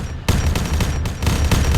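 Gunfire during an assault in a military operation, a dense burst of rapid overlapping shots that begins abruptly after a brief lull and continues loudly without pause.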